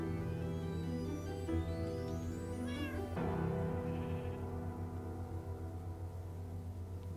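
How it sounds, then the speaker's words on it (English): A cat in the Minecraft video game meows repeatedly, with plaintive drawn-out calls over steady tonal game background sounds. "She left a cat behind."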